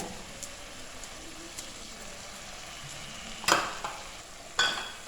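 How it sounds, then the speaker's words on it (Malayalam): Vegetables, coriander and mint being stirred and fried for a Kerala-style vegetable biryani: a soft, faint sizzle runs under a few sharp clinks of a utensil against the pot. "എന്നിട്ട് നന്നായിട്ടൊന്ന് മിക്സ് ചെയ്ത് കൊടുക്കുക"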